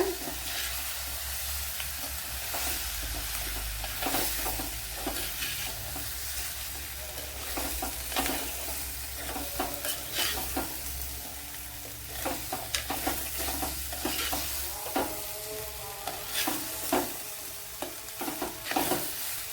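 Lemons are stirred into a pan of lemon pickle masala, with a low sizzle beneath repeated scraping and tapping of a spoon against the vessel, the strokes growing busier toward the end.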